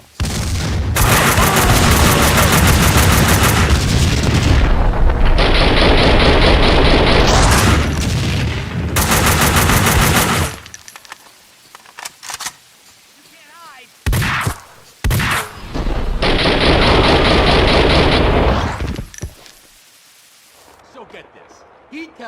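Heavy gunfire from a Max Payne 2 shootout, loud dense bursts and booming blasts filling long stretches, broken by brief quieter gaps, with voices speaking in between.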